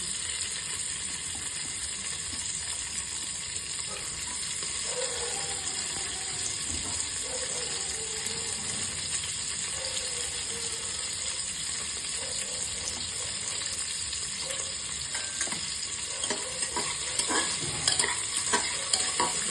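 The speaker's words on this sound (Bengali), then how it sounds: "একটু ভাজা ভাজা করে নেব" Chopped onions sizzle steadily in hot oil, a continuous close frying hiss with occasional stirring scrapes toward the end.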